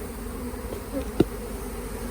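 Honey bees buzz in a continuous, close drone as they are shaken out of a hive onto the ground, interrupted once by a short thud.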